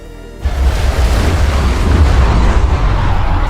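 An uncharged spell explosion from the Hydra element in the game Elemental Warzone erupts with a loud, sustained rumbling boom that holds steady for several seconds with no talk over it.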